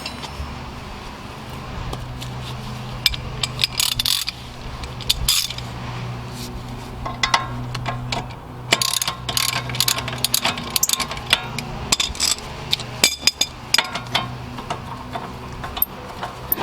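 A ratchet works on 19mm bolts on a Mercedes thrust arm, giving irregular metallic clicks and clanks up close over a low background hum, with bursts of rapid ticking.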